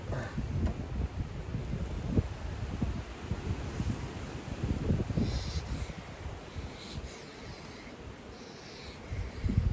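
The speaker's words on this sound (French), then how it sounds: "désolé s'il y a un petit peu de vent et que ça peut être un peu compliqué à entendre" Gusty wind buffets the microphone, producing a rough low rumble that rises and falls throughout, with faint rustling in the background.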